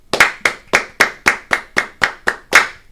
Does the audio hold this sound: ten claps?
yes